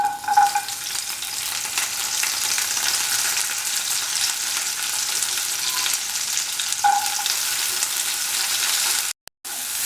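Dry grapes sautéing in ghee in a hot pan produce a loud, continuous crackling sizzle with occasional stirring, close by and with no voices, ending in a brief dropout.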